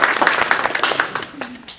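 Brief audience applause for a speaker's daughter at a 2019 honors day ceremony, a short burst of clapping that fades quickly with faint voices mixed in.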